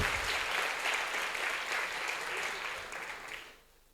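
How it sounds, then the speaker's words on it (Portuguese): Church congregation applauding during a communion service, a broad steady patter of many hands that holds for about three seconds and then fades away, with no speech over it. "Dá uma salva de palmas, pastor ele aqui."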